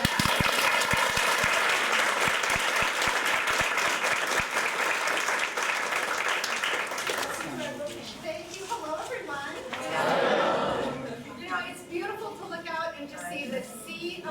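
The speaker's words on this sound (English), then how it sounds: "So I just want to give you a round of applause for that" Loud crowd applause during a public figure's visit with Peace Corps volunteers in Kakata, Liberia, dense clapping for several seconds that fades into scattered claps and crowd chatter, with voices speaking over the tail.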